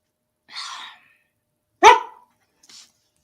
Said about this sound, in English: barking back at him.